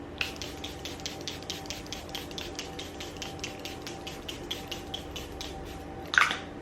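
Quick, rhythmic pumps of makeup setting spray misting onto a face hiss repeatedly at close range, about four per second, ending with one brief louder spritz.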